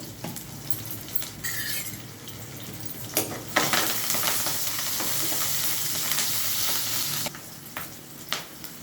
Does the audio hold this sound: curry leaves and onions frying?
yes